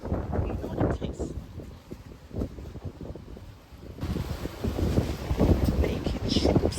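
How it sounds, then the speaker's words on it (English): Strong outdoor wind buffets the microphone in gusty low rumbles, rising and falling throughout with a heavier surge in the second half, while a person speaks over it. "Oh, it's very windy."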